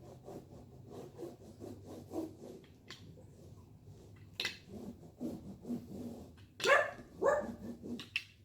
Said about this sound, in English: that's Layla barking